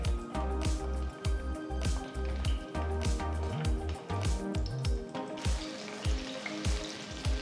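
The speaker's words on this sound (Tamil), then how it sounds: "நறுக்கி வச்சிருக்கிற கத்திரிக்காயை சேர்த்து நல்லா வதக்கிக்கலாம்" Chopped brinjal sautés in sesame oil in a kadai over a medium flame, with sizzling and squishy stirring sounds under a rhythmic background music track and no speech.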